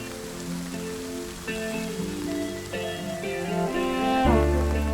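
Steady rain patters on surfaces in a continuous, moderately loud wash with no talking, while musical tones swell underneath.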